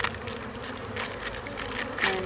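Honey bees buzz around a nucleus colony hive, a soft continuous droning hum with individual insects passing close now and then.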